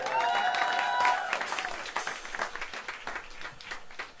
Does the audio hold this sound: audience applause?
yes